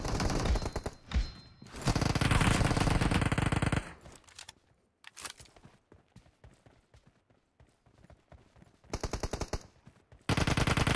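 Rapid automatic gunfire from a PUBG Mobile team deathmatch comes in loud, dense sustained bursts broken by quieter stretches of scattered single shots.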